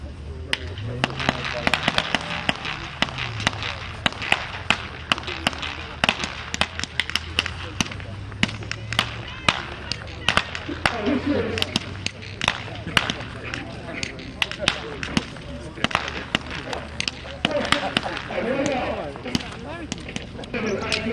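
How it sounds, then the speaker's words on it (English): Armoured vehicles firing during a battle reenactment display at an air and military vehicle show in Kemble, with dense repeated sharp bangs and cracks over rumbling engines, close and loud throughout. "the armour now comes in and starts engaging"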